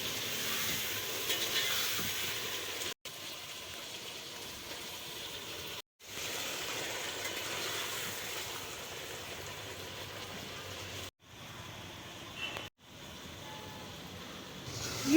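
Kidney beans and turnip deep fry in hot oil with a steady, loud hiss and sizzle. The sound cuts out abruptly at several points, and no one speaks.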